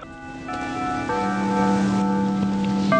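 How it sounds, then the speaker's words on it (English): An electronic quorum-call bell sounds inside a Legislative Council building, with sustained layered tones that shift pitch and persist steadily for several seconds. "The bell for quorum calls became a familiar sound"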